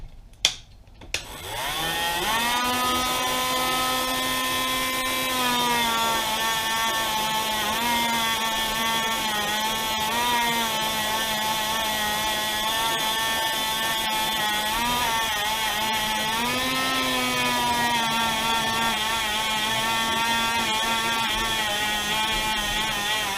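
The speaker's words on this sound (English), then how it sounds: "spending some time with the Dremel with the wire brush" Dremel rotary tool with a wire brush cleaning a Yamaha Warrior 350 cylinder head after valve removal: a few clicks, then a loud, steady high-pitched whine with wavering pitch that runs continuously, alone.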